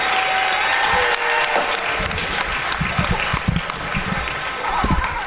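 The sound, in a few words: crowd applause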